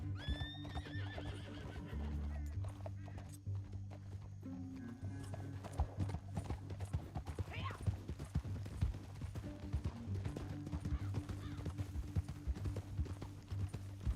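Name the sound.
horses galloping in video game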